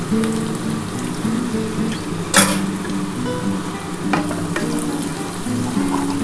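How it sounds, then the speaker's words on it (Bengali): Onions fry in ghee in a pan for mutton dak bungalow, giving a close, steady sizzle and crackle broken by occasional sharp scraping clicks from stirring, with no talking. "আমার পেঁয়াজটা ভাজা ভাজা হয়ে এসেছে"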